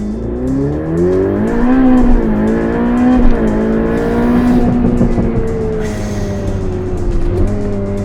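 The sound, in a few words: Ferrari Pista Spider downshifting and accelerating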